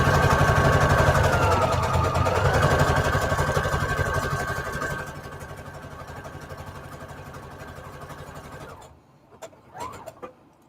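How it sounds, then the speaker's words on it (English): A sewing machine stitches lace onto an index card, its motor running loud and steady with a rapid needle rhythm for about nine seconds before it stops, leaving a few soft handling clicks. "Let's get this sewed on here."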